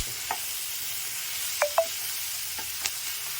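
Onions and tomatoes sauté in a pan for a spicy Tamil kara chutney, a faint, soft sizzle with a few light spoon clinks against the pan.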